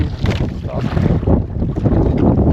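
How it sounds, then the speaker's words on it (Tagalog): Strong northeast monsoon wind buffets the microphone at sea aboard a small fishing boat, a loud, rough, continuous roar with gusty surges and no voices. "Lumalakas ang amihan."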